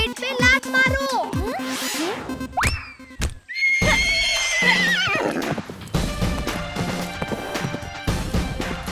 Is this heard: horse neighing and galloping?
yes